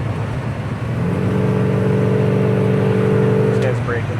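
A 1955 Chevy Bel Air accelerating, its engine a loud, steady, rising drone heard from inside the car, with a voice speaking over it.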